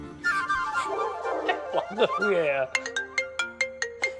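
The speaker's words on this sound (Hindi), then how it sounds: "फोन बज रहा मेरा, रुक जा।" After a burst of excited talking, a phone ringtone starts playing a bright, repeating run of electronic tones, evenly paced and clear.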